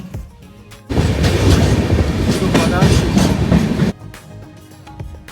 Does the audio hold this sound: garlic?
no